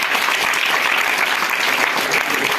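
A school quiz audience breaks into dense, steady applause, with many hands clapping together loudly and continuously throughout.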